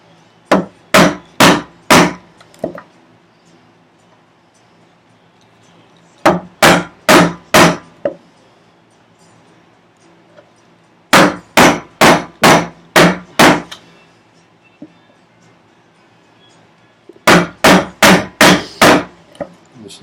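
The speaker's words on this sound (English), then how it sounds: "It's the first time I've chopped in my vise." Chisel chopping into wood clamped in a workbench vise, struck by a mallet in four bursts of about five sharp, loud, evenly spaced blows each, separated by short quiet pauses, no talking.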